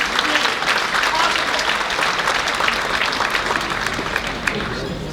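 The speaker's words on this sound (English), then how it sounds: "I want to give all of you a round of applause for coming tonight." A crowd at an Islamic academy elementary campus fundraising dinner applauds, dense sustained clapping that fills the room loudly and evenly for several seconds, with a few sharper claps standing out near the end.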